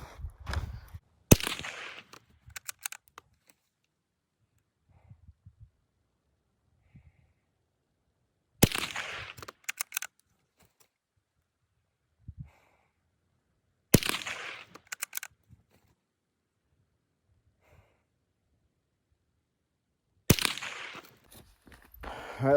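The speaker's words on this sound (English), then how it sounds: "I'm gonna take 4 more shots at that center ring and see how close I can get them." Four rifle shots fired at a target ring, each a loud, sharp crack with a short decaying tail, spaced several seconds apart, with faint handling clicks and rustles in the quiet gaps between.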